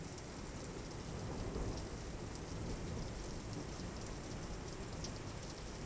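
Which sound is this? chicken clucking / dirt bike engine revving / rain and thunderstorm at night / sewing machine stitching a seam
rain and thunderstorm at night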